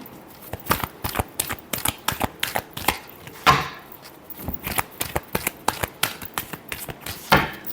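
Tarot cards shuffled by hand during a Scorpio love reading, a fast run of crisp riffling slaps and flutters in steady bursts, close and clear with no talking.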